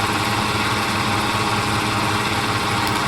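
Steady, loud drone of the Dornier Do J Wal flying boat's engines in Microsoft Flight Simulator, heard continuously from the cockpit at reduced cruise power around 1450 RPM, with no voices over it.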